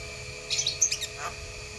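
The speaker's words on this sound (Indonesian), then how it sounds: "ana manuk labet ana manuk jalak ana manuk ketilang" A brief burst of high, bright starling and bulbul chirps and whistles, a few quick notes close together, over a quiet steady background.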